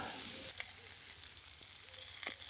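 Lamb chops searing in a pan outdoors at a camp lunch, a soft steady sizzle with a few faint crackles and spits, close but quiet.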